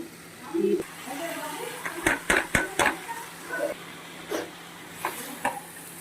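Chopped bottle gourd being stirred in a spiced pan with a spatula, sharp metallic scrapes and clanks against the pan in an irregular cluster, close and fairly quiet over faint kitchen background.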